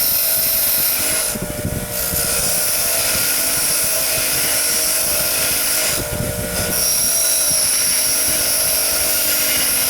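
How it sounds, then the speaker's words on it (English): Wire wheel on an angle grinder stripping orange paint from a die-cast Matchbox Mercury fire chief car, a loud continuous high-pitched whirring grind with two brief dips in load. "Took the wire wheel on the grinder to get it off."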